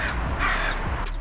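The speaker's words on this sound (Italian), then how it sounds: "Oh, e sto corvo!" A crow caws loudly and close by, outdoors near a small practice football goal in cold weather, its harsh call carrying over a broad noisy background.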